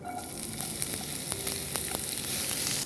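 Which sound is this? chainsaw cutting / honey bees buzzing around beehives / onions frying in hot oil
onions frying in hot oil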